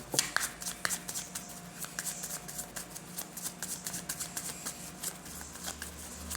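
Baralho cigano fortune-telling cards are shuffled by hand close up, a steady run of soft riffling flicks and slaps repeating for several seconds.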